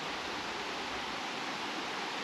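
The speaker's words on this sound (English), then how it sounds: "constant little cascades and nice little waterfalls all down this" Small stream tumbling over rocks in little cascades and waterfalls on a forest hike, a steady broadband rush of water, close and continuous with no voices.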